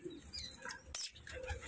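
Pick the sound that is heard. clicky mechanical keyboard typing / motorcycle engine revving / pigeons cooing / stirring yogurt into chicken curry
pigeons cooing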